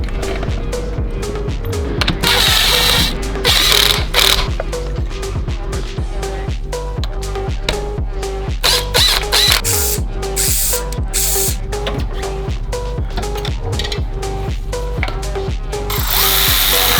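New spark plugs being fitted into a Nissan Skyline engine with hand tools: quick bursts of ratchet clicking and sharp metallic taps, loud and close, come in irregular clusters over a constant background hum.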